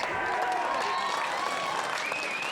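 An Emus rugby crowd at a home grand final applauds and cheers, a steady, loud roar of clapping and voices filling the whole stretch.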